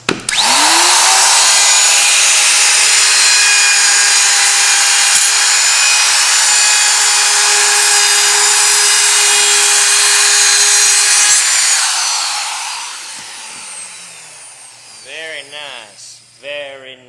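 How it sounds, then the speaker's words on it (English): A router fitted with a quarter-inch round-over bit rounds the edges of a wooden table leg, a loud, close, high steady whine that holds for about twelve seconds before spinning down, followed by someone speaking briefly. "So I'll be using the router with a 1/4 inch round over bit."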